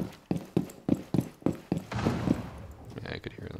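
Footsteps in Rainbow Six Siege come as a quick run of sharp, evenly spaced thumps, about eight strides in a row, followed by a busier shuffle of movement with faint game noise.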